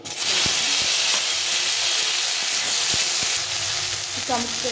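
Tomatoes for a sweet chutney with raisins sizzle loudly and continuously in a hot pan, a close, dense frying hiss with faint stirring knocks and no speech.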